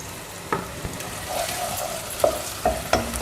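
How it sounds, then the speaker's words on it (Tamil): Punjabi potato curry fries in a pan with a soft continuous sizzle, broken by several sharp scrapes and taps of a spoon stirring against the pan, close and fairly quiet with no talking. "பாருங்கள், இன்னும் கொஞ்சம் ஃப்ரை ஆகட்டும்"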